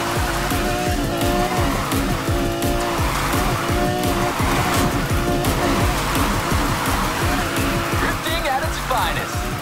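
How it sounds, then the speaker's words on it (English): In the Need For Speed Heat racing game a Nissan 350z drifts with a constant engine roar and repeated tire squeals, loud and continuous, with a voice heard over the action. "Drifting at its finest."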